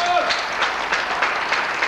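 Applause from a Romanian football talk-show studio audience, a dense steady wash of clapping heard close under a speaking voice throughout.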